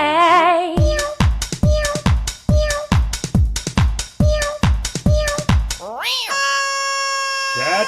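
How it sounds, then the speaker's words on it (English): Cat party sound effect: a rapid string of about nine loud, clipped cat meows in a steady beat, followed by a rising tone and a bright synthetic chime, no talking. "Do you have the cat party sounder available?"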